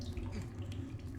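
Water running steadily into a container in The Solus Project, a brief continuous rushing pour at low volume.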